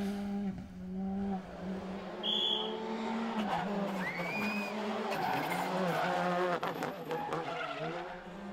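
A Skoda Fabia R5 rally car skids through a stage, its engine droning and rising as the tyres squeal and scrub, with a loud, continuous roar close by.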